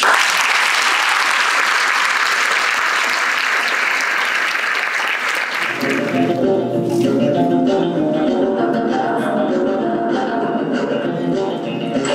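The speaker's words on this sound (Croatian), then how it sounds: "podržite naše glumce aplauzima" Audience applause for young actors at a school play celebrating a gymnasium's school day, a dense continuous clapping from a full hall that carries on steadily, then gives way to music partway through.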